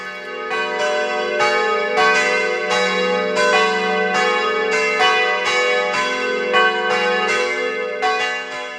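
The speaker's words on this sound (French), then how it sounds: "les cloches doivent sonner à l'extérieur" Church bells peal outdoors along the Camino de Compostela in winter, loud, repeated strikes in a steady overlapping rhythm with rich ringing tones that carry throughout, with no talk over them.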